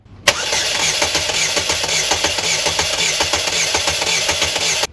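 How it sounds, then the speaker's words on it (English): Starter cranking a Chevy Cobalt engine during a compression test, a steady loud mechanical whir with a rapid regular chugging pulse that runs continuously for about four and a half seconds before cutting off abruptly. "I'm gonna go ahead and set the camera up on a tripod and crank this engine over."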